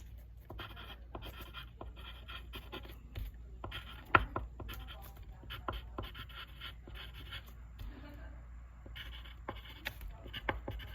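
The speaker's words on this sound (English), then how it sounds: "I'll just write that down now." A pen scratching out handwritten notes on paper, heard as faint, close, intermittent strokes and taps in a quiet room for about eleven seconds, with no talking.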